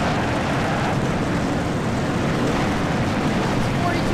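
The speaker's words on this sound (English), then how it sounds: "42 cars come to life when we're getting set to go racing at Daytona." Dense, steady engine roar of a full field of 42 stock cars firing up at Daytona before the Daytona 500 in a sim racing game, a continuous loud wall of sound with no gaps.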